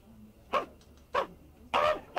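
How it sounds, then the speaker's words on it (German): A dog in a radio drama barks three separate times, the sharp yaps spaced roughly half a second apart, close and clear against a quiet background. "Eben erscheint der Hofrat Strobel mit seinem Hund Pipperl."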